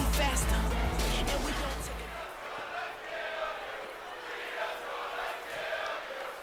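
Arena crowd in the WWE 2K24 wrestling game, loud cheering and chanting that booms at the start, then settles into a steady roar with rising swells, heard under low background sound.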